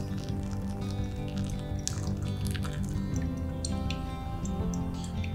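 Water is poured over ground coffee in a V60 pour-over brewer, making a soft, continuous trickling and dripping with small irregular splashes over a steady low background hum.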